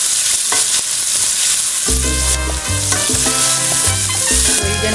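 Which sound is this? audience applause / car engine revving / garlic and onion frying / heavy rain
garlic and onion frying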